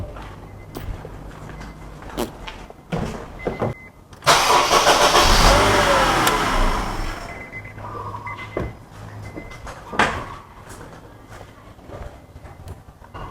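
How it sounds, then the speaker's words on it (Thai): A Honda Accord engine cranks and starts during a power steering fluid change, a loud sustained roar lasting a few seconds before settling, with clicks and handling noises around it. "ต่อไปให้เราทำการสตาร์ทเครื่องเหมือนเดิม"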